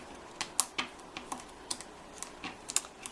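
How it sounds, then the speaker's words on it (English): Paper backing is peeled off strips of foam tape laid on cardstock, making a series of short, sharp crackling rips and ticks at irregular intervals, close and clear with no talking. "Now I'm gonna carefully peel all this backing paper off of all the foam tape that I've laid down."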